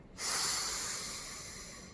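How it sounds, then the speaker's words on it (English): One long breath is drawn in through the nose during a healing-sounds breathing exercise: a close, airy inhale that starts abruptly and slowly fades over about two seconds. "Breathe in nicely through the nose."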